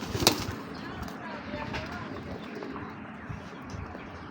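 Big grizzle racer pigeons coo and flutter restlessly while being handled, low murmuring calls under a voice speaking throughout, with a sharp flap early on.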